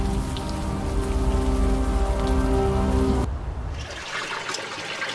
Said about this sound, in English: At least the rain is washing away.